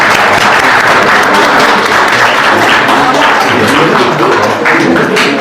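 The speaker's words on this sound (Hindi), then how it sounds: "बच्चों तालियां जोर से।" Children clapping loudly and steadily throughout at a college annual function, a dense, continuous burst of applause with faint voices underneath.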